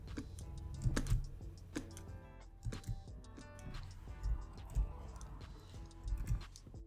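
Computer keyboard keys tapped during Photoshop clone stamp skin retouching, irregular clicks and short bursts of typing, fairly close and quiet, with no voice over them.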